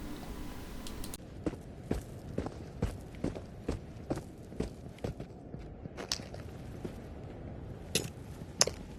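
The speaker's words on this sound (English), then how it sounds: "I hear a lot of footsteps." Footsteps in the video game Into the Radius, a steady run of distinct, evenly spaced steps crunching at moderate distance, quiet and alone without talk.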